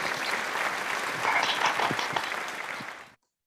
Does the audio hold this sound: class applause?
yes